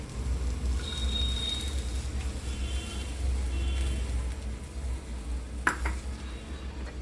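Chopped onion sits in a pan over a gas flame for a brinjal curry, producing a quiet, even sizzle over a low hum, broken by one sharp metallic clink near the end.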